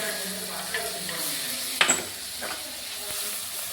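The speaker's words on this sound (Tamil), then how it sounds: "இதையும் போட்டு நல்லா வதக்கணும்." Mint and coriander sautéing in a biryani pan, giving a soft steady sizzle with a brief stir or clatter of a utensil partway through, faint overall.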